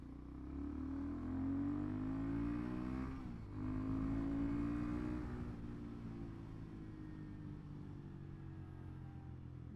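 A Royal Enfield Bullet 650 motorcycle with a snapped clutch wire rides along, its engine rumbling steadily and rising and falling as it revs, fairly loud and with no talking.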